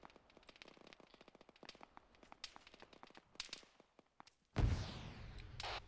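Distant gunfire in the Arma 3 military shooter, scattered sharp cracks and rapid bursts popping at varying range, followed by a heavier close blast with a rumbling tail.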